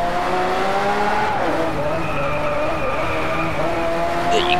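A Lamborghini Aventador LP720-4 engine wails at high revs while racing in Driveclub, its pitch rising and falling through gear changes with tires briefly squealing and skidding, loud and continuous with someone talking over it.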